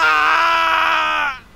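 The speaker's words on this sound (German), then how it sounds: "Ich habe Flint noch nie so schreien gehört." A man screams in the game The Testament of Sherlock Holmes, one long loud sustained cry held steadily before cutting off abruptly into quiet.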